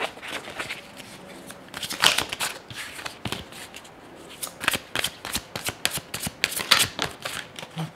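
Tarot cards shuffled by hand up close, a rapid series of riffling flutters and soft slaps in irregular bursts, with no talk.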